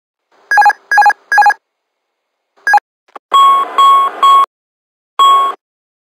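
Airbus A320 cockpit alarms sound in an electrical power failure training simulation: three quick beeping bursts and a lone beep, then longer repeating tonal chimes, loud and clear with no talking.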